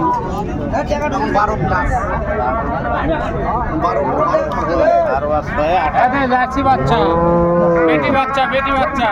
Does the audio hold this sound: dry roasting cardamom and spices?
no